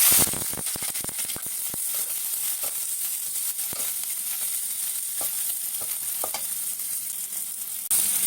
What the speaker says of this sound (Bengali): তেল গরম হয়ে গেছে, এখন পেঁয়াজ আর কাঁচামরিচ দিয়ে দিচ্ছি